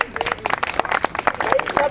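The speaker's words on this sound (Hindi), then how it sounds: "जितने लोग यहाँ आए हुए हैं घर परिवार छोड़ के, उनके लिए बस जोरदार तालियां" Audience applause at a Buddha Purnima speech gathering in a park in Lucknow, a short burst of scattered clapping from a moderate crowd, fairly close and loud.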